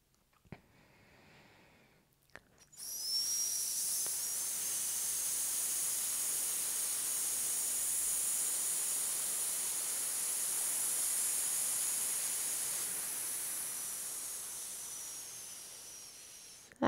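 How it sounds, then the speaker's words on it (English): A person exhales forcefully between the teeth in a breathing exercise, producing one long, steady, close hiss that holds for about fourteen seconds after a brief quiet start. "3 breaths in through the nose and out between teeth with an S sound"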